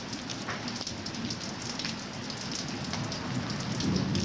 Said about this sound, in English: Golf ball size hail here and there.